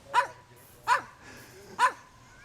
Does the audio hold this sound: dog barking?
yes